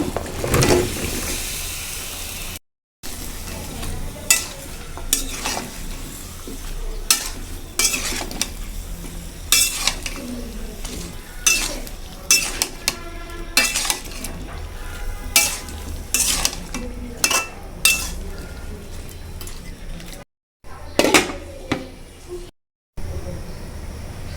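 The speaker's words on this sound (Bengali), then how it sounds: "দিয়ে দিচ্ছি মশলা সবজি দিয়ে দিচ্ছি" Vegetables and spices are stirred and fried in a pan while lunch cooks at home. The sizzle is close and steady, with repeated scraping and clinking of a utensil against the pan and short breaks in between.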